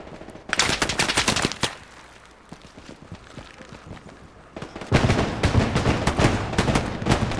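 Bursts of automatic gunfire crack out in a World War II shooter game, a loud rapid volley, a quieter spell of scattered distant shots, then another sustained close burst.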